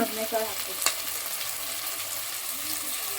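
Onions frying for vangi bath: a continuous close sizzle with a sharp spoon clink and stirring scrapes early on, no speech.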